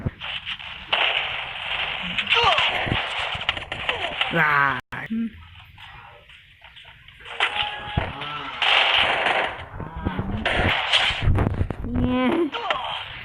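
Video game gunfire crackles in rapid bursts and single shots throughout, mixed with someone talking excitedly over it.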